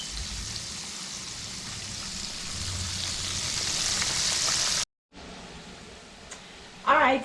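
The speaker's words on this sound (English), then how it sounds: "So we're gonna let this fry." Eggplant (bigan) sizzles steadily in a frying pan, a continuous close hiss with crackling, briefly cut off near the end before a louder burst; no talking.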